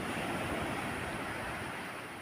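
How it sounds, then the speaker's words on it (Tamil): Sea waves at Palavakkam beach roar as a dense, continuous wash of surf, loud and close, with wind noise blending into the steady rush. "பாருங்கள் கடல் எப்படி இருக்குன்னு"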